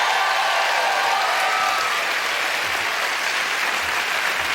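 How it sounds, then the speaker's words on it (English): Studio audience applause on a late-night talk show, a dense, steady roar of clapping that stays loud and even throughout with no voices over it. "You know, you all clap or nobody clap."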